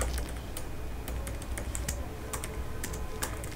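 Steady typing on a computer keyboard, close, with rapid irregular key clicks running continuously and no voice over them.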